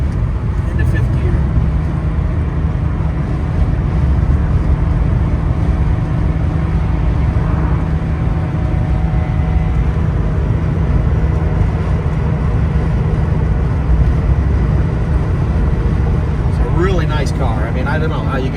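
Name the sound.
1984 Porsche 911 Carrera engine revving at 4,000 RPM into fifth gear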